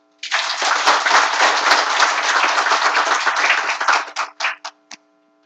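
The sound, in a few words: audience applause after a lecture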